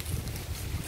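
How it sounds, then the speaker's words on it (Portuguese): Wind blows outdoors behind a rural house, a loud, continuous rushing roar buffeting the microphone with no other clear sounds. "escuta o vento"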